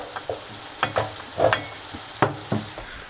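Sliced paprika and onion frying in olive oil, a soft steady sizzle broken by several sharp stir clatters and scrapes, close and moderately loud with no voices.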